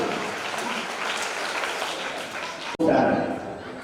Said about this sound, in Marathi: टाळ्यांचा आवाज हा त्यांच्या सन्मानासाठी झाला पाहिजे